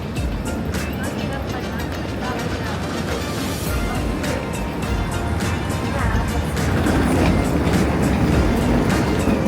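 Steady rumble and rattle of a moving MRT train in Kaohsiung, Taiwan, with clacking and rushing noise throughout and people talking over it.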